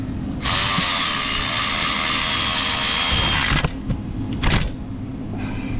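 A power tool whirs loudly for a few seconds while tightening bolts on an engine cover of a Silverado 6.2, then stops and gives two shorter bursts amid clicks.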